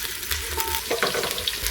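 Chopped onions fry in cooking oil in a pot over a village fire, giving a steady close crackling sizzle with a few scraping stirs, and no talk over it.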